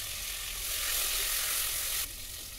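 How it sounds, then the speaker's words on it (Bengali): Cauliflower pieces fry in oil with turmeric and salt for Bengali khichdi, giving a close, even hiss of sizzling that drops off sharply near the end. "ফুলকপিগুলো একটু হলুদ আর নুন দিয়ে সুন্দর করে ভেজে"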